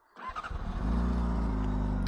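Honda CBR600RR motorcycle, a 2024 model, starting up from warm and settling into a steady idle with a smooth, mid-toned exhaust rumble, loud and close with no talking.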